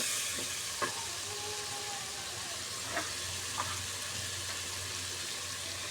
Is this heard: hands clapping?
no